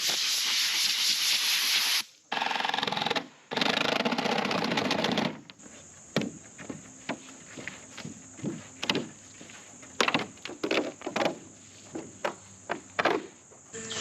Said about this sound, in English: I'm gonna shoot all the dust off